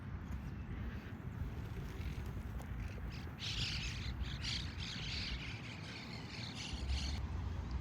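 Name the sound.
birds chirping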